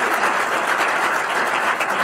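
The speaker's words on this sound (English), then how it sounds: "So a big round of applause to SVB for doing that." Steady, dense applause from an audience at a startup talk fills the room evenly for about two seconds, with no voices over it.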